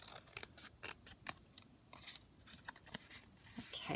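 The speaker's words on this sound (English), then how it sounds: "Cut it across the top." Scissors snipping across sheet music paper for a collage pocket, a quick run of close, crisp cuts in an uneven rhythm, quiet and alone.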